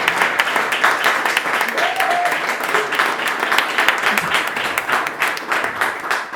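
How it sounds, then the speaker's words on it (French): A crowd applauds Elodie with continuous, fairly loud clapping that runs dense and even the whole time, while a brief voice or tone surfaces faintly underneath. "j'aimerais qu'on applaudisse Elodie pour tout le travail qu'elle met en place"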